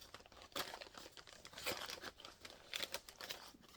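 Plastic zipper baggies crinkle and rustle in quiet, irregular bursts as someone handles them up close, with a few sharper crackles scattered among softer rustling.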